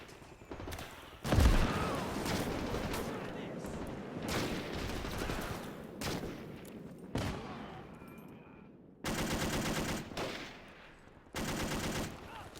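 Bursts of rapid machine gun fire crackle through a WW2 Pacific battle on Saipan in a video game, with repeated sustained volleys and single shots, loud and close, while someone talks between the bursts.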